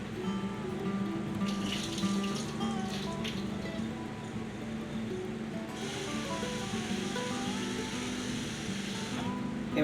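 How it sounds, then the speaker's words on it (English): Water drains from a bowl of soaked cashews in a kitchen, a steady gushing pour that swells and splashes for several seconds over a constant background hum. "I'm going to go ahead and drain the water from the cashews."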